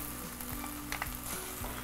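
Tomato paste frying in a pot with meat for tas kebab, a quiet close-up sizzle with soft spoon scrapes and stirring clatter at an uneven pace.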